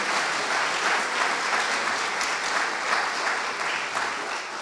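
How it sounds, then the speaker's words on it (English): An audience in a Durham gallery applauds at a Black History Month celebration. The clapping is dense and continuous, with no break, and fills the room at moderate loudness. "Give them a round of applause so they know that they're appreciated."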